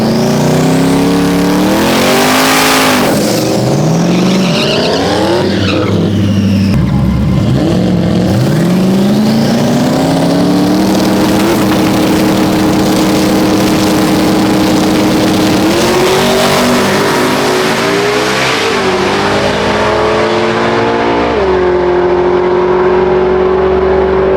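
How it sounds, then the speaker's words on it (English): A race car accelerates hard and climbs through the gears, its engine note rising in pitch with each pull and dropping sharply at every shift, loud and close throughout with no voices. "First gear. Finger on the button. Let go. Fly back. Shift to second. Shift to third."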